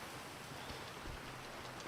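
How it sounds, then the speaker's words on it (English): Rain falls in Grand Theft Auto Online as a soft, steady hiss of drops hitting surfaces, faint and unbroken with nobody speaking. "it's raining"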